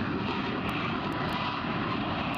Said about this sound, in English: MCAS Miramar says the F-35 will sound a tad louder on takeoff than an F-18, but at least 10 decibels quieter for its landing